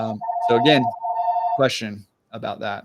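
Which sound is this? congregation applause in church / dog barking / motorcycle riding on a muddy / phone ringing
phone ringing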